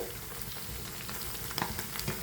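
Fish frying in hot oil, with a continuous crackling sizzle and scattered sharper pops and spits, close by and with no talking.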